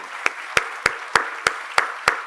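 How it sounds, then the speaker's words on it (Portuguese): Sparse, slow applause at a restorative justice ceremony, about seven evenly spaced sharp claps over roughly two seconds, fairly loud and close, with no talking. "Convido a todos para que esse aplauso seja realmente efusivo"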